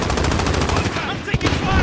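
Rapid automatic gunfire from Call of Duty: Modern Warfare in realism mode, a dense continuous stream of loud shots with one sharper burst near the end.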